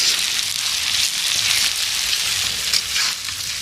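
Food frying in oil in a pan over a wood-fire stove: a steady, loud hissing sizzle with crackling pops, close by and uninterrupted, no voices.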